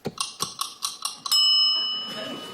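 A kitchen timer winds with a rapid series of ticking clicks, then its bell rings out with a bright, lingering metallic tone that slowly fades, close up with no voices.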